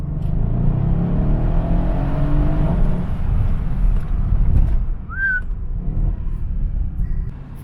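A Mercedes-AMG E63S with a 600-horsepower engine rumbles loudly up close, its engine and exhaust surging and then easing back, with a short whistle partway through.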